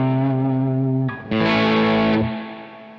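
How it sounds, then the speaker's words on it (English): A tube guitar amp with built-in reverb set halfway, ringing out sustained chords with a short pause and a fresh strum, each chord trailing off into a moderate reverb tail, loud and alone. "Reverb halfway."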